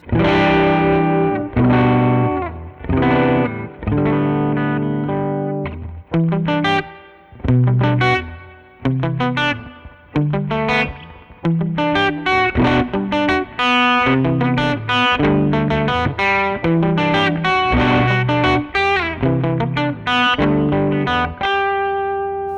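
A Fender Jazzmaster electric guitar on its bridge pickup plays continuous strummed chords and riffs through distortion and modulation effects, loud and dense from start to finish with no talking.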